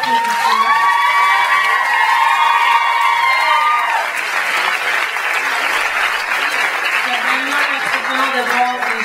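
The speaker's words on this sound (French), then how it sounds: "Mérite une bonne main d'applaudissements." Loud applause and cheering at a music contest semifinal, with clapping mixed with shrill youthful shouts and whoops that are strongest early, then settling into steady clapping and crowd noise.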